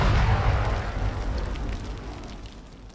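Explosive charge detonating in the video game Arma 3, blowing apart a vehicle and a house: a loud, broad blast that rumbles and crackles, then slowly fades over a few seconds with debris-like noise and no talking.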